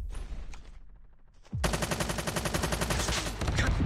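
Rapid automatic gunfire in the video game Call of Duty Mobile bursts in loud and close after a quieter stretch of game sound, then rattles on in a fast, continuous stream to the end.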